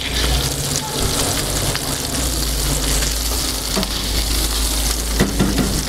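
Sucuk sausage sizzles steadily in a hot pan as it is turned and lightly pressed, a dense continuous crackle close up with a few soft scraping knocks and no talk.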